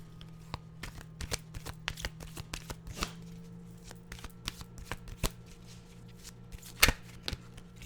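Oracle cards with animal pictures being shuffled by hand, a run of crisp riffling flicks and slaps close up and fairly quiet, with one sharper snap near the end.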